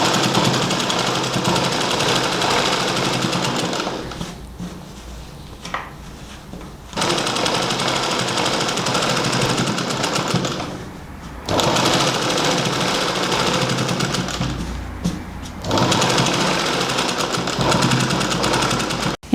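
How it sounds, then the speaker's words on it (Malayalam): A sewing machine stitches along the edge of a baby frock, running loud and steady in three long bursts separated by short pauses. "ഇതുവഴി ഈ അരികത്തോടെ ഒന്ന് അടിച്ചു കൊടുക്കാം."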